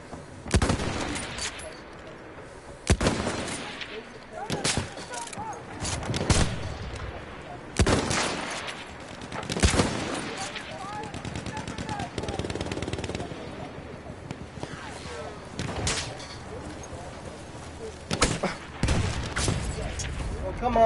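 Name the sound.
enemy machine gun fire in the video game Battlefield 1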